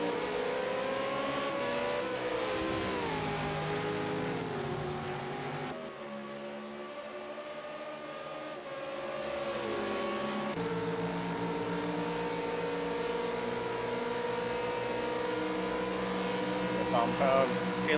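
A V8 Supercar howls around Bathurst's Mount Panorama while chasing another car in the slipstream, its engine a loud sustained drone whose pitch climbs and dips through gear changes.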